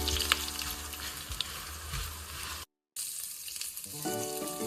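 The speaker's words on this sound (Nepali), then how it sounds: "तेजपत्ता, सिनेमन र कार्डेमन हालेर भुट्नेछौँ।" Bay leaf, cinnamon and cardamom fry in hot oil with a soft, continuous close sizzle and crackle, briefly cut off mid-way, then resuming with faint stirring.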